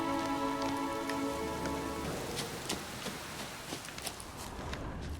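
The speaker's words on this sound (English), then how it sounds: "Looks like rain." Steady rain patters on the ground in The Witcher 3. The downpour is continuous and even, with scattered sharper drops. A sustained musical tone drifts underneath in the first half.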